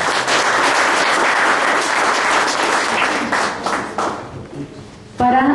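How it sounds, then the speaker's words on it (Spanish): Loud, sustained audience applause welcoming two guests at a presentation event, a dense steady clatter of many hands for about four seconds that thins out before a voice starts speaking at the very end. "Un fuerte aplauso, por favor."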